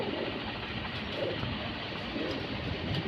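Pigeons cooing at a bird market, soft low murmuring coos blended into a steady noisy background, with no clear speech.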